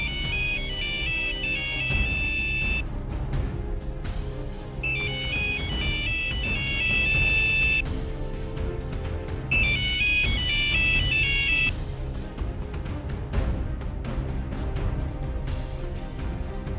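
A mobile phone ringtone plays in repeated melodic bursts, three rings separated by short pauses, loud and close over a steady low background hum.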